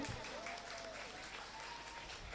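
Audience applause at a school alumni talk show, a continuous wash of clapping at even volume heard from within the hall, with a faint voice briefly in the background.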